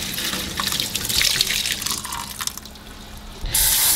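Cooked bean thread noodles drain in a kitchen sink, water pouring and splashing steadily through a strainer, then a louder rush of running tap water near the end, with no voices.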